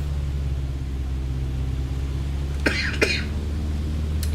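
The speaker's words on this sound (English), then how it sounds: "My bloody cough's come back." A man coughs twice in a quick pair, then gives a third brief cough near the end, all over a steady low engine-like rumble from a flight simulator.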